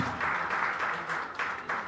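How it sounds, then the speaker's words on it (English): Listeners at a university seminar on Ambedkar break into brief, steady applause for a speaker, a close, dense patter of many hands lasting under two seconds. "Give him a round of applause for a speech"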